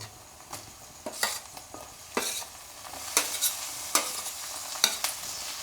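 Onion and tomatoes fry in a pan for a village-style crab curry, with a steady soft sizzle broken by repeated scraping strokes of a spoon against the pan, roughly one each second.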